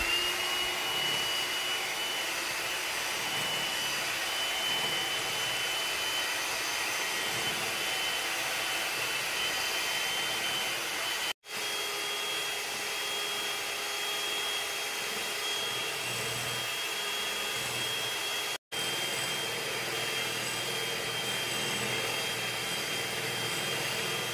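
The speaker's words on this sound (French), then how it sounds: "Je commence par battre les œufs avec le sucre." An electric mixer whirs continuously as it beats eggs with sugar for a lemon poppy seed cake. The motor drone is steady and close, with two very brief cut-outs and no talk.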